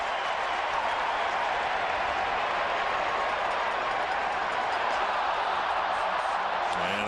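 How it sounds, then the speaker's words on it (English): A baseball crowd at a Brewers game in Minnesota gives Ryan Braun a sustained ovation, a dense steady wash of applause and cheering that holds evenly throughout. "He gets a nice ovation"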